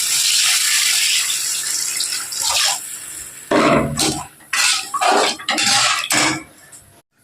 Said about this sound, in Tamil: இப்போ இதுக்கு வேணுங்கிற தண்ணி சேர்த்துக்கணும்